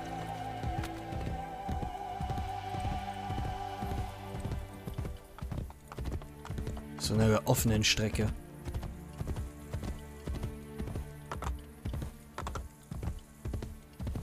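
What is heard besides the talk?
horse galloping, called in video game Assassin's Creed Brotherhood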